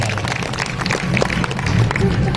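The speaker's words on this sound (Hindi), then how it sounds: "एक बार जोरदार ताली बजा दो" Audience applause at a Chhattisgarhi comedy Ramayan stage performance, a steady spread of crowd clapping lasting throughout, fairly loud and dense, with voices mixed faintly underneath.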